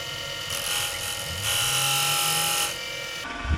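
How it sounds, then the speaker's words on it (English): A skew chisel scores a line into a spinning checkerboard pen blank on a wood lathe, giving a steady, close, harsh scraping hiss over the running lathe that swells louder for about a second in the middle, with no talk. "Gonna use the skew to score a line."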